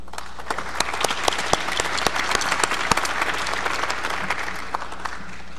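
A concert audience applauds a brass band, a steady crowd of clapping hands with some sharp individual claps standing out near the front, continuing evenly for over five seconds without speech.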